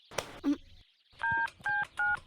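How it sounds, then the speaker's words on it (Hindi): Telephone keypad being dialed, heard as a few close-up clicks followed by three distinct electronic dial tones in a quick sequence. "कब से फोन लगा रहा हूँ, पर रिंग तो नहीं आया।"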